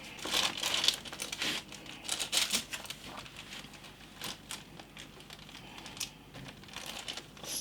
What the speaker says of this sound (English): I will just rip a piece off, glue it on there, and tear off the bits that aren't stuck down